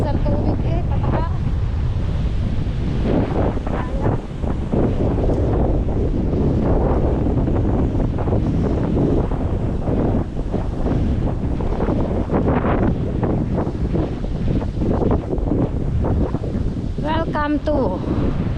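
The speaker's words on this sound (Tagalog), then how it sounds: "hangin hangin bagyo ba salpang alon" Strong wind batters the microphone while ocean waves crash nearby on a stormy coast, a constant roaring, gusting wash that swells and surges throughout, with occasional voices faintly under the noise.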